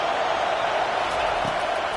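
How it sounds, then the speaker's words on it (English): Dense roar of a football stadium crowd at a Wisconsin vs Texas game, loud and steady as fans cheer on the defense on third down; no clear speech. "Decibels rising as the crowd gets behind this defense on 3rd down."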